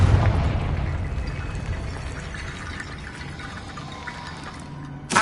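A Confringo explosion spell in a wizard game: a low, rumbling blast that starts loud and fades slowly, ending with a short sharp burst.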